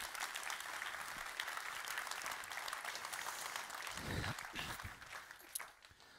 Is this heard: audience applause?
yes